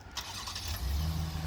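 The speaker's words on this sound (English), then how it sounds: "and that'll start your car" A Cadillac XT5 engine cranks and catches after a remote start, settling into a steady low idle rumble close by, with no voices.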